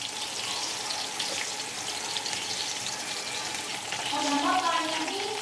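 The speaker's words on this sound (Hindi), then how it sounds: "अब हम प्याज डालेंगे। प्याज को हम अच्छी तरह फ्राई करेंगे।" Onions frying in hot cooking oil for a beef pulao, giving a steady, dense sizzle that swells slightly near the end, close and continuous, with no talking.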